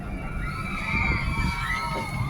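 Cable car passengers shout and scream together in a sustained, overlapping chorus of raised voices, heard close against a steady background rumble.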